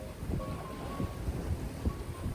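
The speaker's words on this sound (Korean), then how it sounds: "파도와 돌이 내는 소리에 귀 기울이며" Waves washing over stones on the shore of Gapado island off Jeju, a steady broadband rush and rumble with several surges rolling in, mixed with wind noise on the microphone.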